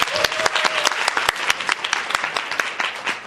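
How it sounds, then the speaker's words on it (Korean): An audience at a business meeting claps for the host, a lively patter of separate sharp hand claps from a modest crowd, fairly close and uneven in rhythm, with a brief faint tone early on. "다시 한번 박수 한번 보내주세요."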